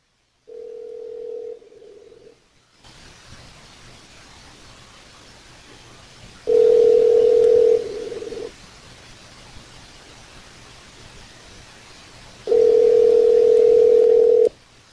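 A telephone dial tone sounds in three steady bursts while a call is placed, with a hushed gap between them over a faint background hiss.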